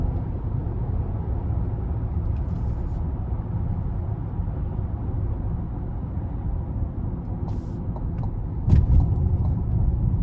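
A 2026 Chevrolet Traverse High Country pulls onto an interstate in sport mode, its engine a steady low rumble under road and cabin noise with a slight swell near the end; no one speaks.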